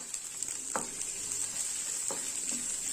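Two dried red chillies and two green chillies sautéing in a pan for chutney, a steady soft sizzle with a couple of faint stirring scrapes, close and even, with no talking.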